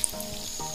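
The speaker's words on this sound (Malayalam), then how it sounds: "ചെറിയുള്ളി ഒന്ന് ചെറുതായിട്ടൊന്ന് വാടി വരുമ്പോഴേക്കും അതിലേക്കൊരു രണ്ട് തണ്ട് കറിവേപ്പില ഇട്ട് കൊടുക്കാം." Shallots and curry leaves sizzle while frying in a pan for a green leaf curry, making a soft, steady hiss with a faint crackle near the start.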